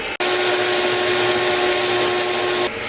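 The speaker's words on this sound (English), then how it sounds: "I'm gonna grind some coffee now." A coffee grinder grinds whole coffee beans, whirring loudly and steadily for a few seconds, starting abruptly and cutting off at the end.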